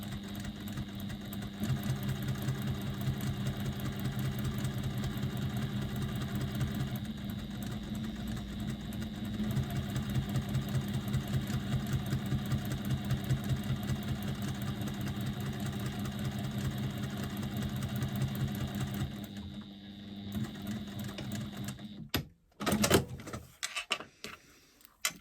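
A sewing machine stitches all the way around a piece with a steady, continuous motor hum for about twenty seconds, then stops and gives way to a few close handling clicks and rustles.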